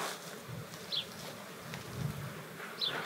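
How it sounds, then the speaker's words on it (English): Honey bees from a feral bush colony buzzing steadily up close, a continuous droning hum with a few louder passes of individual bees near the ear, no voices. "he reckons they're the super friendliest bees ever"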